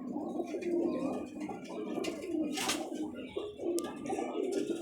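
Pigeons coo softly in low, rolling murmurs, several birds overlapping, with faint chirps and light rustling nearby.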